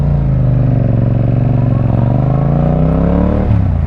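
A Yamaha MT-07 motorcycle with a new aftermarket exhaust runs loud and close, its deep, steady engine drone rising slightly in pitch before dipping near the end, with no talking.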